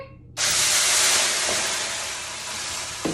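Water hits a preheated pan at the bottom of an oven while ciabatta bread bakes, bursting into a loud, sustained steam hiss that starts abruptly and fades slightly over a few seconds.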